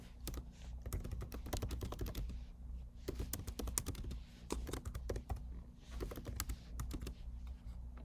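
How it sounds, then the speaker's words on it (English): Quick, dense keystrokes clatter on a computer keyboard in bursts with brief pauses between them, close and fairly quiet, with no talk over them. "I can obviously type in instructions here."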